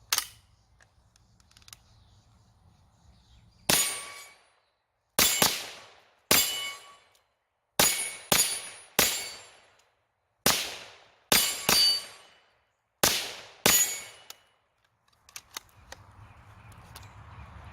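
A GSG-5 .22LR rifle fires CCI Stinger rounds in about a dozen sharp, loud, close cracks at uneven intervals, with quiet stretches and faint handling noise at the start and end.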